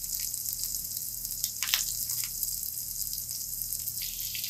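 Okra frying in oil on a flat chapati griddle, a steady soft sizzle and crackle with a few brief spits, close and fairly quiet.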